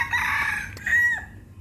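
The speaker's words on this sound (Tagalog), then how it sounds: "ay mga manok. Maamo sila sa tao." A chicken clucks and calls in short bursts at a Punggol connector walkway, fairly close and moderately loud, with no talk over it.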